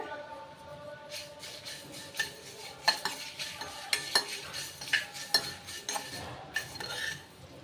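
Soft sizzling of chillies and curry leaves frying for a rasam tempering, with repeated metallic clinks and scrapes of a spoon stirring, steady and close.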